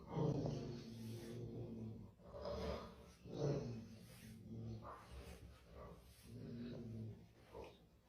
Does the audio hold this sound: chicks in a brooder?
no